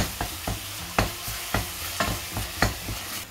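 Minced beef for a bolognese sizzling in a pan while a utensil breaks it up, with regular stirring strokes roughly twice a second over a steady fry, close and alone.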